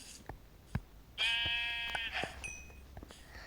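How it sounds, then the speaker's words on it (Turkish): A Minecraft sheep lets out a single wavering bleat, clear and fairly close, amid faint game sounds and a few soft taps before and after. "Koyun."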